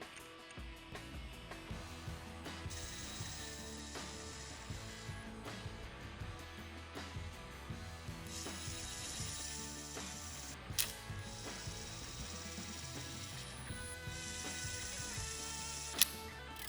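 A hand ratchet tightens Loctite-coated cap screws on a Wedgelock C6 quick coupler wedge mount, giving quiet, steady runs of fast clicking pawl strokes with a few sharper metallic clacks.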